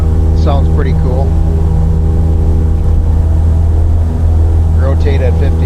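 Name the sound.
Cessna 172 engine at full throttle in MSFS 2020 video game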